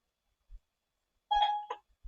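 A phone's voice recognition activating with a short electronic chime: a sustained tone followed quickly by a second brief note, clear and close, with a few soft low thumps before and after and no talk.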